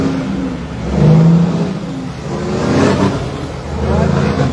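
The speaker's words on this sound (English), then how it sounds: "So you'll hear a big truck going by." A big truck passes by an outdoor mini food market, a loud low engine rumble that swells and fades in slow waves, close to the microphone with no talk over it.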